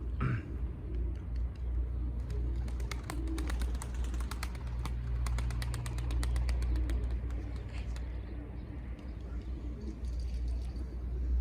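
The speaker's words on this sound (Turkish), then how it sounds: "Kendi beslediğimiz kuşlar." Pigeons in a breeding loft cooing softly and steadily, with low rumbling background noise and faint voices nearby.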